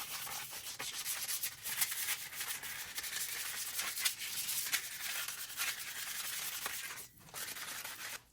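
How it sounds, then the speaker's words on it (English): Steady back-and-forth scratching of sandpaper rubbed by hand over a mini bike part, close and continuous with brief pauses, no talking. "we'll start sanding it right now"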